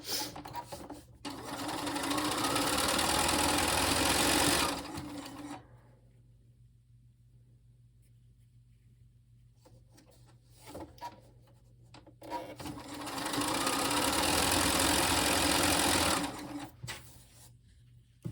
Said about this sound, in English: I'm just going to sew these together